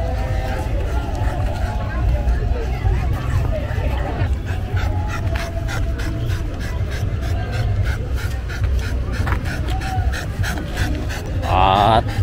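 During a 1 km dog fun run, a dog pants in quick, steady breaths close to the microphone, under crowd noise and people talking, with a short whimper near the end.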